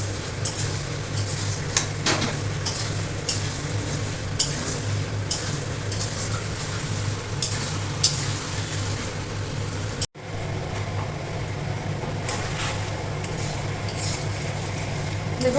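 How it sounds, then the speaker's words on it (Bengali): Chicken curry cooking in a kadai, a steady close sizzle with scraping and clinks of a spatula against the pan as it is stirred slowly, running continuously with a brief break. "এবার আস্তে আস্তে করে একটু নাড়িয়ে দিচ্ছি, যাতে কড়াতে যাতে না লেগে যায়"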